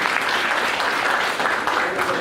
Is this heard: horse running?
no